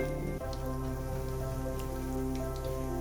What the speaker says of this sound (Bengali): ঘি গরম হয়ে গেছে, 2টো তেজপাতা দিয়ে দিলাম, ছোট এলাচ দিয়ে দিলাম, লবঙ্গ দিয়ে দিলাম